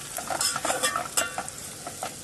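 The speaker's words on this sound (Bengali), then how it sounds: "মটন রান্না হবে এখন।" Mutton fries in a pan at an outdoor cooking spot beside a fuel pump, with a steady close sizzle broken by repeated scraping stirs of a utensil.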